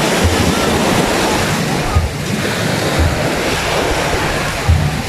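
Surf rolls continuously onto a white sand beach, a dense, loud wash of waves with wind buffeting the microphone and low thumps as the water breaks.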